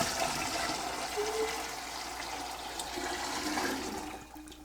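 Eight quarts of brewed black tea pour from a container into a large bowl of rum punch, a steady, fairly loud rush of liquid lasting several seconds before trailing off.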